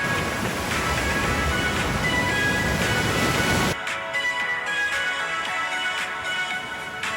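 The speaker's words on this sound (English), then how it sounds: "Open the window and you're gonna see the ocean" Ocean surf outside an oceanfront house in Uluwatu, Bali, gives a loud, continuous roar that drops abruptly to a softer, more muffled wash partway through, with no talking.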